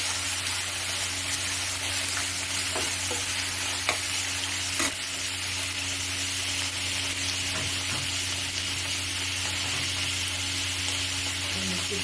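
Seven or eight cashews sizzle in hot oil in a pan while cooking pudina rice, a steady, close frying hiss with occasional soft stirring clicks.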